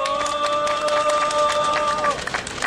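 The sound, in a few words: applause welcoming a speaker at a rally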